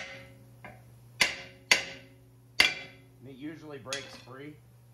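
A hammer taps a Dodge Grand Caravan rear brake rotor three times, each a sharp metallic ring, and someone speaks briefly afterward.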